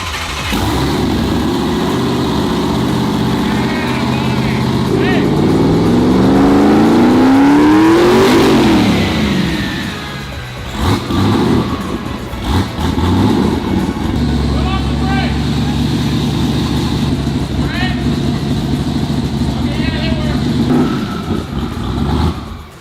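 A newly built car engine fires up for its first start and runs, loud and close with revving swells, while people talk over it.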